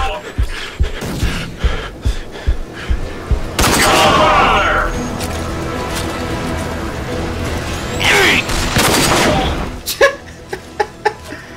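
Frag grenade blasts and bursts of gunfire in the shooter game Rage, loud repeated cracks and two heavy sustained explosions, with voices briefly talking in the mix.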